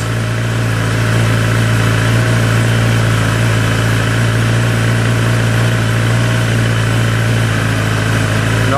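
A Kawasaki ZX10R motorcycle engine idles while warming up, giving a steady, even, close hum that holds unchanged throughout with no revving.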